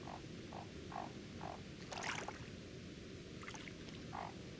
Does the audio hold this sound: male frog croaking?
yes